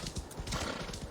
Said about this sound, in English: So, let's just grab our horse.